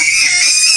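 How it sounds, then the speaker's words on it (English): A baby screams loudly and steadily in a shrill, high, continuous cry that fills the whole short moment close to the listener, with no talk over it. "He knows how to scream."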